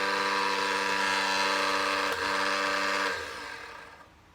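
A Quorn tool grinder's electric motor runs through a belt drive with a steady, fairly loud mechanical hum and whine, then begins spinning down and fades over the final second.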